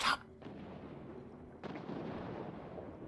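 A dull, rumbling Halo 5 explosion bursts in, followed by a sustained roar of fire and debris, loud and close.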